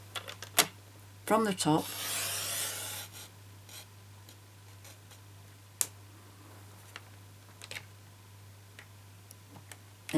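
Card stock is cut down to 6 inches on a paper trimmer, a brief close slicing swish followed by scattered light clicks and taps, with a short spoken phrase near the start.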